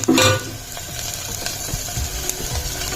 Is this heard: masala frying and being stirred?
yes